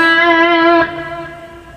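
Electric guitar through a Line6 Helix plays part of a solo slowly. A single sustained, harmonically rich note rings, then shifts to a softer note that decays, with no voices.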